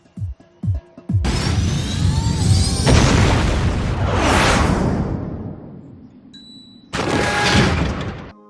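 A tower blown up in an animated cartoon: a few short thumps lead into loud rushing whooshes and a roaring blast that rumbles and fades, then another burst of explosive roar near the end.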